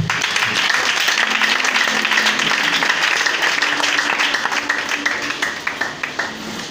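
A church congregation applauds together, sustained dense clapping filling the room from start to finish and thinning toward the end into scattered, separate claps.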